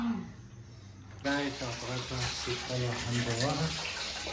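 A water tap turns on and runs with a steady, hissing gush, while people talk loudly over the flow.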